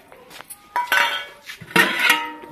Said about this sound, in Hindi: और फिर चम्मच से फेर दूंगी